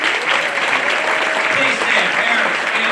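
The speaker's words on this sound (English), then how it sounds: "So let's give a big round of applause to the parents and families who are with us." Sustained applause from an audience honoring parents and families at a Louisiana Students of the Year awards ceremony, dense and steady clapping with a voice or two faintly mixed in.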